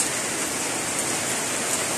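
Heavy rain pours down steadily on a chili farm, a dense, hissing roar of water with no pauses and no voices.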